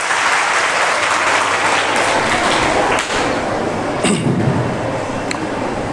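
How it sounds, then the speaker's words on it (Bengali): An audience at a girls' high school event in Malda claps loudly and steadily for a visiting madam, a dense sustained burst of applause that fills the room, with no talking over it. "ম্যাডামের জন্য শেষে জোরে হাততালি দিবে।"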